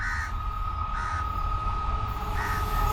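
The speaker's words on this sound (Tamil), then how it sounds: "ட்ரெயின் பக்கத்தில் வந்துருச்சு" A train passes close by with a steady low rumble and a sustained high squeal, joined by repeated crow-like caws, loud and continuous with no talk.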